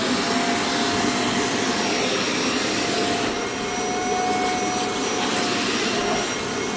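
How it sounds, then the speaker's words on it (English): A vacuum cleaner sucks water out of a dog-smelling carpet, giving a loud, steady, close roar with a high whine that holds unbroken throughout. "we're going to vacuum it out"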